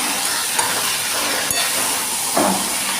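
Banana flower ghonto cooking in a pan with sugar and garam masala being stirred in: a steady soft sizzle with a few light scraping stirs, close and alone.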